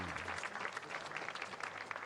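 Crowd applause at a bullfighting arena in Yamakoshi village, Japan, a dense, steady patter of clapping from many spectators lasting the whole moment.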